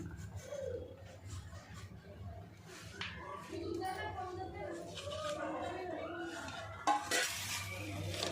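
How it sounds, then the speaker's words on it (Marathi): Spoon stirring a thick pickle mixture with crushed peanuts in a bowl, with soft scraping and occasional clinks, continuous over a low background hum. "तो पण व्यवस्थित मिक्स करून घ्यायचा"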